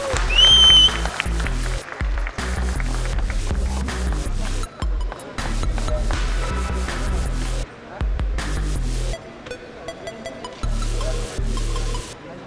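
Applause from the audience at a bodybuilding prize ceremony for a men's physique contest in Pune, a loud crackling clatter of clapping coming in bursts with brief gaps, no talk over it.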